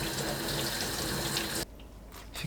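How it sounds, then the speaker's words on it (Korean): Tap water runs steadily into a sink while cabbage is rinsed, then the flow stops, leaving faint splashes and handling sounds. "물에 씻어주세요."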